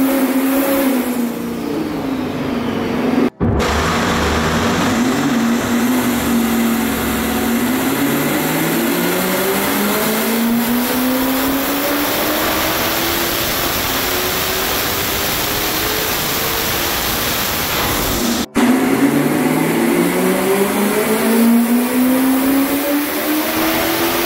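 BMW N62B44 V8 car on a dyno making power runs at over 1100 wheel horsepower, loud engine revving up steadily with rising pitch, two brief cuts between pulls and a fresh climb at the end, no talk.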